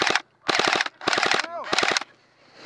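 Airsoft guns fire during an outdoor airsoft game in four rapid bursts of loud, snappy automatic shots separated by short pauses, with a brief voice between bursts.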